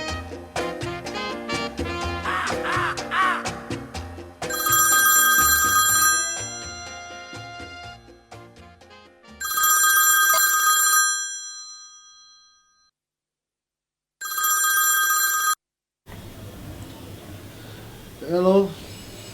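A landline telephone rings in repeated bright bursts of bell-like ringing, loud and close, broken by pauses and ending in silence before a voice answers.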